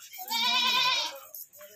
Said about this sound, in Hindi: ये बकरा है फुल ब्लैक